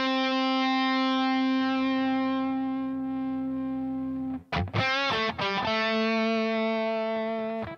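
An electric guitar through a compressor pedal on a Spark amp: a sustained note rings out evenly, then quick picked notes break in before another long, smooth, compressed tone holds steady.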